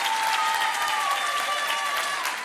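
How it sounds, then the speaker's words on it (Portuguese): A studio audience at a televised talent show gala claps steadily and loudly from start to finish, a dense continuous wash of hands with faint voices mixed in. "uma salva de palmas para os Chutes"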